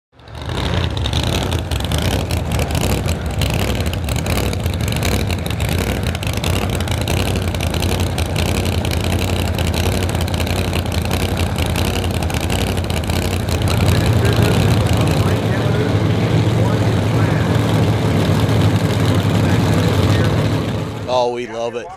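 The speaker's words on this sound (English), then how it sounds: "the burnouts are just part of the show" A race car doing a burnout at a gasser drag racing event, a sustained rough engine roar with shifting pitch that intensifies midway, with voices over it.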